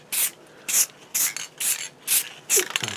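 Short bursts of spray from a spray paint can, applied lightly from a distance onto a prop, repeat in a steady rhythm, six hissing puffs about half a second apart, close by.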